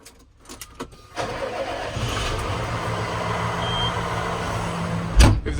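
A farm tractor, a 6-to-15 model and the biggest on the fleet, cranks and fires up near a mixer on a hay farm, then settles into a steady, close, loud idle hum with a short thump near the end.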